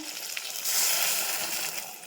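Water pours steadily into a cooking pot with rice, a continuous splashing gush that grows a little louder partway through, with no voices.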